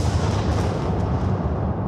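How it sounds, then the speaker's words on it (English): A 21-kiloton atomic bomb test detonation roars as a continuous, loud, dense rumble. It is broadband and sustained throughout without a break, and no one speaks. "the bomb's detonation released the energy equivalent to 21 kilotons of TNT"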